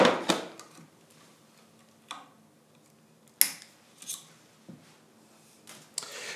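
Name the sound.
cutting tennis racket string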